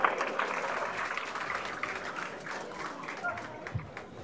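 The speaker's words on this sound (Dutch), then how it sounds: "dat is wel even een applaus weer" Applause from a crowd at the opening of a drum band concert in Munstergeleen, a moderate, steady wash of clapping that slowly fades, with a voice talking over it.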